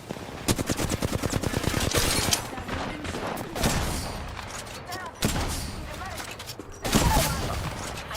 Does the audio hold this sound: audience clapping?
no